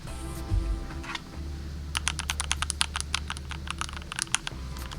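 Fast, uneven typing on an Epomaker GK96S mechanical keyboard with Cherry MX Silver switches. Crisp, close key clacks come in rapid bursts, with no speech over them.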